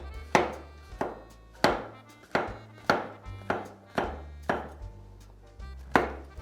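A knife chops through a mushroom on a board in about nine evenly spaced sharp thuds, each with a short ring, close and clear with no talk.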